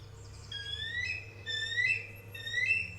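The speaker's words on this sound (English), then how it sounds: "Oh, bald eagle, you're majestic and funny sounding." A bald eagle gives a series of high, thin, chirping whistled calls in three quick bursts over a low background hum.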